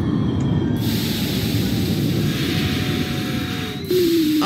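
NYC Subway R46 train in the OpenBVE simulator rolling and slowing, a continuous low rumble with hiss and a faint descending whine, ending with a louder burst near the end; no talking.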